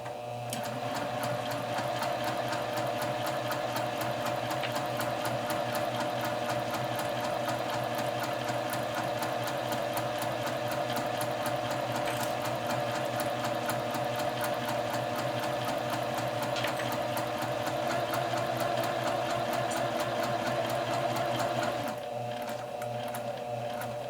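A serger sewing machine stitching a seam finish runs continuously at a steady fast hum and rattle for over twenty seconds, close and loud, then slows and stops near the end.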